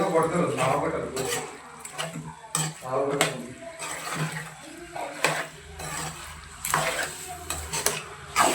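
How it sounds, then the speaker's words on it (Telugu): Chicken for a village-style curry is stirred and fried in a pan, with a sizzling hiss broken by irregular scraping and clattering strokes, and a voice talks over it. "ఇప్పుడు చికెన్ వేసుకోవాలి చికెన్ వేసి బాగా కలపాలి"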